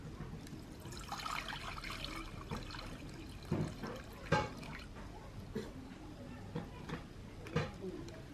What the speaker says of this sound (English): I'm going to add water